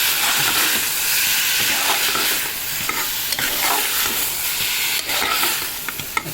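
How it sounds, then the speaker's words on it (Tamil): Tomatoes sizzle and hiss steadily in a hot pan while cooking down for tomato thokku, with a spoon scraping and stirring now and then; no talking. "நல்லா வதக்கிக்குவோம்"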